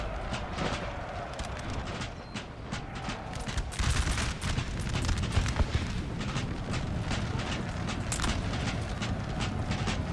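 Massed musket volleys roar across a Napoleonic battlefield in the strategy game Napoleon Total War, as dense overlapping cracks and rolling booms pile up continuously, swelling louder partway through with sharp bursts standing out.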